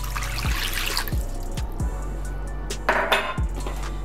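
A cup and a half of water trickles and splashes steadily into a bowl of twice-baked potato mixture, with a few soft thumps and a brief louder splash near the end.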